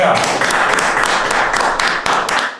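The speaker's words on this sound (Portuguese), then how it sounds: "Salva de palmas, time." A round of applause from a small group in a studio, many hands clapping in a dense, steady patter close by for a few seconds before trailing off.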